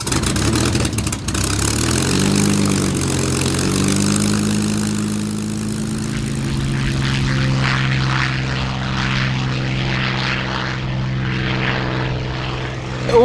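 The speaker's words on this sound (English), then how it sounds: "It's a proper full-grown Spitfire, and it's in the skies where the Battle of Britain took place over the south of England" A Spitfire's propeller engine roars steadily in flight over the south of England, a loud, continuous droning growl that shifts slightly in pitch, with no talking.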